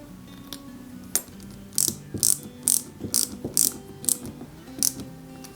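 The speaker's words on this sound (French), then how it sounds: "Je vais y mettre 2 vis AM." Small screws driven into a Peugeot 205 GTI 1.9 die-cast model kit, a series of quiet ratcheting clicks and short squeaky turns in bursts, close and alone.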